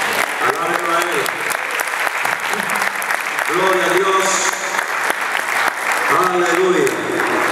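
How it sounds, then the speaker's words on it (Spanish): A church congregation applauds loudly and steadily throughout, the clapping sustained under a voice speaking over it. "Vamos a recibirlo con un aplauso"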